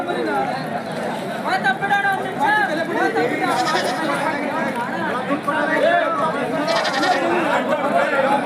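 Many goats bleating over each other amid a busy crowd's chatter at a weekly sheep and goat market, loud and continuous, a dense outdoor market din.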